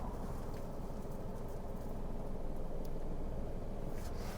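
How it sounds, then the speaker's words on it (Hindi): Manual car engine running steadily as the clutch is released, a low continuous rumble at even pitch, close and quiet, no talking. "एक पॉइंट आएगा जहां पे मेरी गाड़ी का साउंड चेंज होगा"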